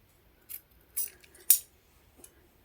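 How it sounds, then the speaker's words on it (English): Scissors snip through a small piece of paper at a papercraft table: three or four short, crisp cuts spaced about half a second apart, close and fairly quiet, with no talking. "I'll just cut a little piece of that"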